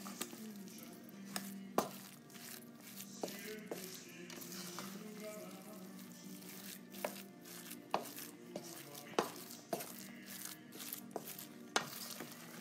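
Ground meat and cooked rice being mixed by hand for stuffed cabbage, quiet squishing and kneading with scattered sharp taps and knocks against a bowl, close and faint.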